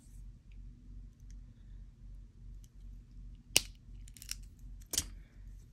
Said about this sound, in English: Then I'm going to cut the excess wire off.